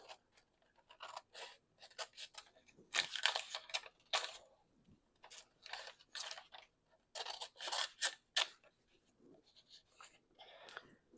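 Scissors snipping through thread and paper scraps for a stitched art-journal cover, heard up close as a run of crisp, rapid snips and scrapes in irregular bursts, fairly quiet, with no talk.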